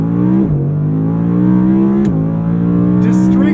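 An Audi R8 with its V10 engine pulls hard, a loud close-up tonal wail climbing steadily in pitch, briefly dropping at each gear change before rising again.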